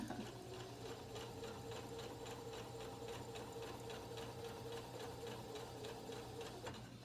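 A sewing machine stitches through four layers of felt for a dog pull toy, a quiet, steady run of rapid needle ticks over a motor hum, continuous throughout.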